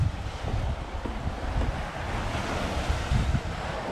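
Sea waves wash onto a beach in Santa Barbara County, a loud continuous surf roar mixed with gusting wind buffeting the microphone, no voices.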